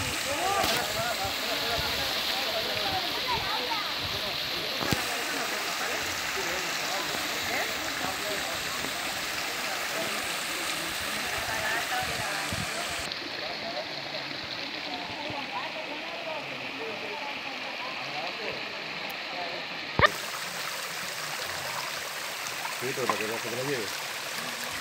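Spring water from a mountain near the source of the Cuervo river, a steady trickling stream heard up close while people talk over it, with a couple of brief knocks.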